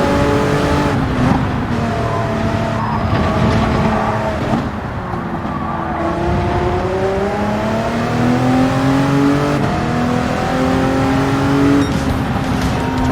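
LMP1 race car in Gran Turismo 7 on PS5, a loud close engine roaring and revving through gear changes with rising and falling pitch sweeps, continuous for over ten seconds without talk.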